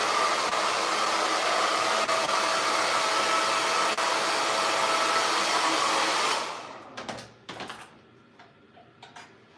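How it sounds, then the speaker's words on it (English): A very hot blow dryer roars loud and steady at close range during a quick weave hair styling session, then cuts off abruptly, leaving faint clicks and handling sounds. "Because this blow dryer gets really hot."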